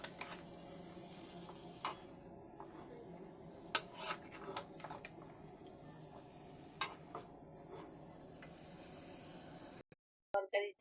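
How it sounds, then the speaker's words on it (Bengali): Ridge gourd curry being stirred in a pan, with faint scraping and a few sharp clinks of a utensil against the metal over a soft, steady sizzle. "ঝিঙেগুলোকে আমি একটু নেড়ে দেব।"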